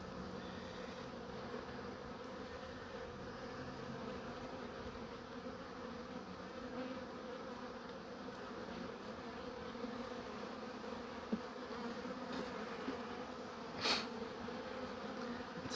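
Honeybees buzz steadily throughout an open-hive inspection at a school in June, a dense, continuous drone from many bees close by with a few louder passes near the end.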